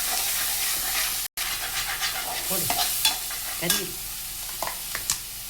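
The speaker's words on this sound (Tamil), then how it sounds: "ஸோ இப்போ இதை நீங்கள் நல்லா வதக்கணும்" Ground home-made spice paste of pepper, fennel and cumin is sautéed for a chicken curry, with a steady sizzle and repeated scraping stirs of a spoon. There is a brief dropout near the start, and a single word is spoken.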